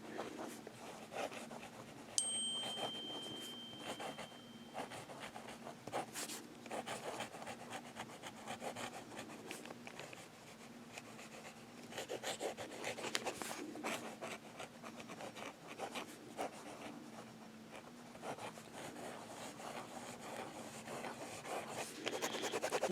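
A Kaweco double-nib fountain pen writes on paper, laying down ink in a continuous, fairly quiet, scratchy rubbing of strokes that goes on for the whole stretch, with no voices.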